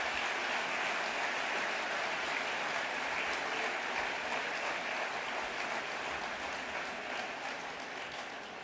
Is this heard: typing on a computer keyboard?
no